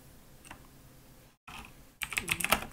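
Computer keyboard clatters with rapid typing during a League of Legends session, a short quiet burst first, then a brief pause, then a loud dense flurry of keystrokes close up.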